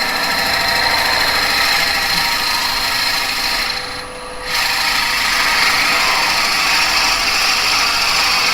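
A drill bores into yew on a spinning wood lathe, a steady loud mechanical whine and hum with a brief dip in the middle as the bit eases off, then resumes.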